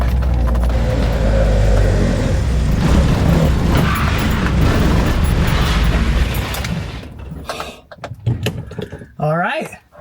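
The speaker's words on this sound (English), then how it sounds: "I might be able to just slowly just get it up on the lift and left foot brake it." An Audi Quattro creeps slowly up onto a lift, its low engine rumble and scraping, creaking noise loud for several seconds before fading, then someone speaks over quieter moments.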